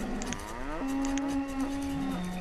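Cattle in the city-building game Banished give a drawn-out low moo, a close, clear call lasting the full moment with no talk over it.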